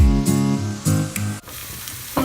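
Minced garlic frying in oil for garlic fries gives a loud, close sizzle with bursts of spatula scraping, then quieter crackle after a short pause.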